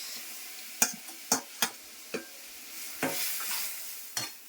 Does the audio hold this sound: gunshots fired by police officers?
no